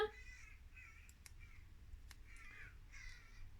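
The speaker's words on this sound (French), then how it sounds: "C'est des corbeaux, non?" Crows caw outdoors at a moderate distance, several harsh calls arriving in loose bursts over quiet background hiss, with no talk.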